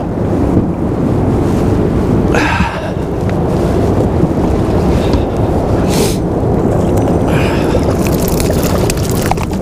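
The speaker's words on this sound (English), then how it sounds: "The wind's blowing us up the lake." Wind blowing across a lake while fishing from a boat in December, a loud, constant roaring buffet against the microphone with water slapping underneath and occasional gusts spiking through.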